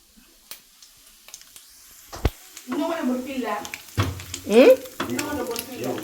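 Prawns fry in hot oil with a crackling sizzle that builds midway, with stirring clatter, while people talk nearby.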